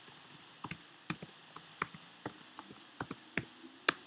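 Fingers typing on a computer keyboard in a short, irregular burst of crisp clicks and key taps, close and clear with no talk.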